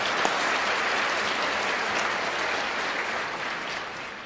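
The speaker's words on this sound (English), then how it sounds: "I'm going to applaud that one." Applause for a speaker at a debate before an audience, a dense steady clapping from a large crowd lasting several seconds without talk.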